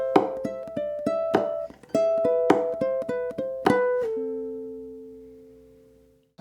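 A ukulele plays bars 7 and 8 of the chorus as a run of crisp plucked notes and strums. It ends on a final chord that rings out and fades alone.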